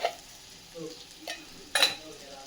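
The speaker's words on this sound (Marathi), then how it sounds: "मिक्स करून घेऊयात मिनिटभर आपण हे छान पैकी परतून घेऊयात" A jowar flour mixture with salt and sugar is stirred and sautéed in a pan, giving a faint low sizzle punctuated by three or four distinct utensil scrapes and clinks against the pan.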